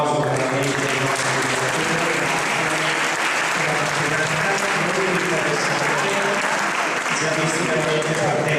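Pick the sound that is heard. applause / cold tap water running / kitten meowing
applause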